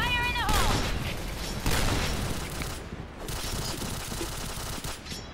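Rapid gunfire in the online shooter Point Blank comes as dense, loud bursts of automatic shots that run almost continuously with brief lulls, close and harsh.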